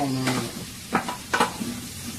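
Mango and apricot cook in a saucepan with a steady sizzle, broken by a few scraping stirs of a utensil against the pan. The sound is close, with no voices.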